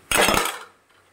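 Fried prawns and gongura leaves tipped into a pan of sautéed onions, giving a short burst of clattering, metallic scraping and sizzling that lasts about half a second, then fades into quiet.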